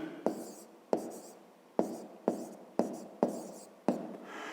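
Pen scratches on paper while writing down a math answer, seven short, evenly spaced strokes in a steady rhythm, close and soft.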